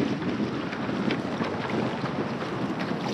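Gusty wind on a tidal creek near Charleston, South Carolina, buffets a kayak angler's microphone with steady broadband roaring rumble and no voices.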